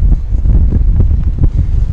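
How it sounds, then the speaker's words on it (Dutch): Strong westerly storm wind on the beach at IJmuiden buffets the microphone, a loud, continuous low roaring rumble with irregular gusts and no talk. "Strand bij IJmuiden, veel wind."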